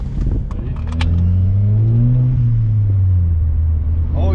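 Volkswagen Jetta fitted with a K&N cold air intake revs up close by, its engine rising to a sustained loud roar and easing back, with a brief rattle at the start.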